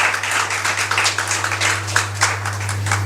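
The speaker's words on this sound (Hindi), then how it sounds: "ताली बजा दो, तुम्हारे लिए बजेगा।" Audience applause for a contestant at a provincial selection competition, steady scattered clapping over about three seconds with a constant low electrical hum underneath.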